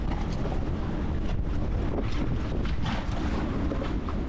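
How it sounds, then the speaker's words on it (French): Constant 22 to 23 knot wind with gusts near 30 buffets a sailboat at anchor near rocks in shallow water, a loud, continuous rumbling roar of microphone wind and rigging noise with no talk. "Puis là, il y a du vent constant à 22, 23."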